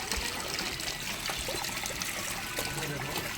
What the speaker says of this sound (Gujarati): પાણી પણ ચાલુ થઈ ગયું છે. ઉપરથી આવી રહ્યું છે.